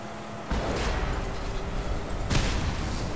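A car blows up during vehicle combat in the Mad Max video game on PS4, with a sudden loud blast followed by rumbling and a second burst, with no talking.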